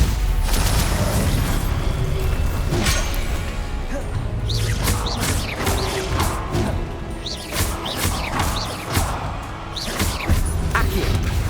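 A Stupefy spell being cast in Hogwarts Legacy during a busy fight, heard as a dense run of whooshing zaps, booms and crashing impacts that keeps going steadily for about eleven seconds.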